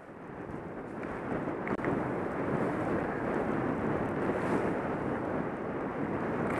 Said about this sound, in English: So the wind is blowing right up our face.